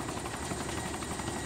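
Mi-17 helicopter in a video game, a steady, dense rotor and engine drone that holds at an even level throughout the short stretch, with no voices.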